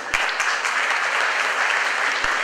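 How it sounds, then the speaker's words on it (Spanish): An audience at a university lecture gives its guests a dense, steady round of clapping that fills the whole moment without talk. "Démosle un fuerte aplauso a nuestros invitados."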